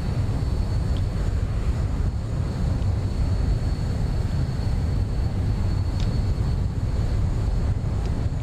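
Steady airliner engine drone in flight in the X-Plane flight simulator, a constant loud broadband roar with low rumble that holds unchanged throughout, no talking.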